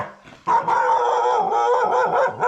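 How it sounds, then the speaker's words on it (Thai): A farm dog barks and yips in a steady, close, loud run of harmonic barks outdoors at a rural Thai farm, continuing without pause for about two seconds with no talk over it. "ดูมันเห่าฉันสิ"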